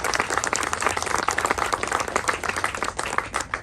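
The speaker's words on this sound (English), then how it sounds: "So would you please give them a round of applause for getting this all done." Outdoor crowd at a town's 300th anniversary celebration applauding the Historical Society, a lively patter of many hands clapping, distinct claps audible within a steady, moderately distant wash.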